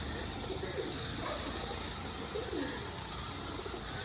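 Pigeons, including small-beaked birds, coo softly in a pigeon shop, low murmuring calls repeating faintly under a steady background hiss.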